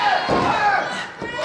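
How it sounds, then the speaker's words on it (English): Arena crowd at a professional tag team wrestling event roars and cheers continuously through a short stretch, dense and loud with shouts rising and falling. "this crowd is electric here tonight in the Stronghold, Jim"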